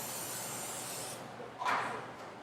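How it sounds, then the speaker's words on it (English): Coconut oil cooking spray hisses from a can in a steady broadband rush lasting over a second, followed by a brief louder burst and a few faint trailing puffs, close and alone. "I'm just going to use this coconut oil spray just to make sure that they don't stick"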